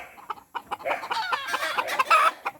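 A lemon Boston gamefowl, offspring of a lemon sire and Boston hen, clucks in a rapid run of short calls at close range in a small backyard pen, the clucks rising and bunching toward the end.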